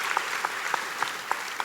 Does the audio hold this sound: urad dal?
no